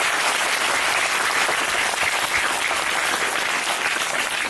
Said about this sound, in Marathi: परत एकदा टाळ्या वाजवा सगळ्यांनी